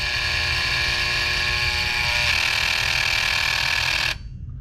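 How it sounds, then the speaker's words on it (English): Electrical relay armature vibrating as coil voltage is slowly raised, a loud steady buzzing hum with a bright rattling edge that runs for about four seconds then cuts off abruptly. "You'll see the armature starting to vibrate and trying to kick in."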